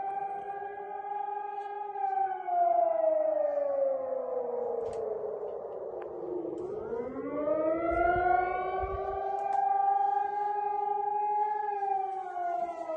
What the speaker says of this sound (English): they're getting the air threat sirens